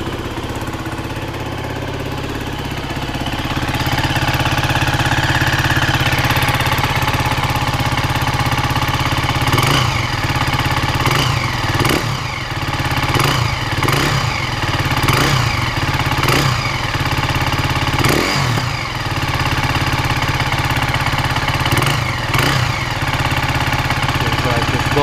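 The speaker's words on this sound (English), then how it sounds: "I hear a ticking noise here in the front." A warm KTM 350 EXC-F dirt bike engine with starting issues idles steadily up close, a light mechanical ticking from the front of the engine tapping over the even, continuous hum.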